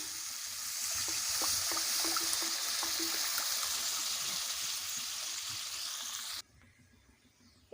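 Water is poured into a mustard and poppy seed hilsa curry, a steady splashing stream lasting several seconds before cutting off abruptly.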